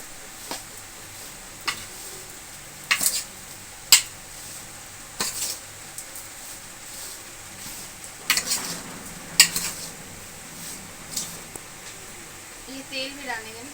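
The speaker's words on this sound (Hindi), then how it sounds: "अभी कैरी में पहले आधा डालेंगे मसाला, इस तरह इसको मिक्स कर लेंगे।" Masala spices being stirred into chopped raw mango for a mixed vegetable pickle, heard as soft scraping stirs with scattered clinks of a spoon against the bowl, interrupted at times by talking.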